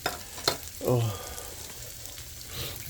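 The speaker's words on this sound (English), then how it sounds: "I'm gonna quickly stir it in" Food sizzles in a pot while a utensil scrapes and stirs, with a couple of sharp clinks and a brief murmur over the frying.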